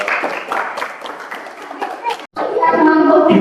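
Classroom applause from students, a burst of clapping rising after a brief pause and continuing steadily, with children's voices mixed in.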